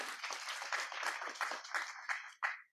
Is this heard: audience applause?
yes